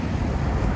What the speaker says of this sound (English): It is so windy and cold out, it's crazy.